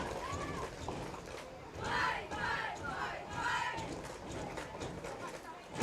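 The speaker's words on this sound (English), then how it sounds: "Crowd really fired up here." Home crowd at a varsity high school football game roaring and yelling, swelling in loud waves between steady stadium noise, with voices shouting over the din.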